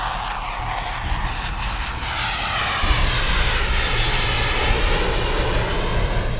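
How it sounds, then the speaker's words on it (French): A Rafale fighter jet takes off again from the runway, a loud sustained engine roar that swells slightly and holds steady throughout, with no talk. "Le deuxième Rafale escorte l'autre jusqu'à la piste, puis repart directement dans les airs."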